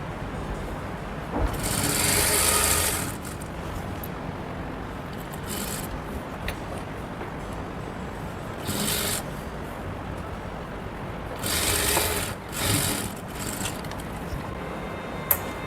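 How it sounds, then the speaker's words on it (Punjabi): A sewing machine stitches fabric for a cord set's neckline in short, separate bursts of whirring, with quiet handling in between. "ਤੇ ਆਪਾਂ ਲਾਉਣ ਲੱਗੇ ਆ ਜੀ ਸਲਾਈ ਇਹਨੂੰ ਕੱਪੜੇ ਨੂੰ"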